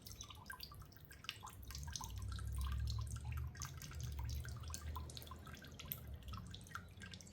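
Melted wax drips out in a quiet, irregular patter of small drops over a low background rumble, heard faint and close up.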